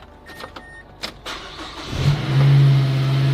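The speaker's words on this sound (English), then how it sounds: "Hey, now we get to hear this turbo action." A turbocharged Mazda Speed 3 cranks briefly with scattered clicks and whirs, then catches and settles into a steady, loud, close idle.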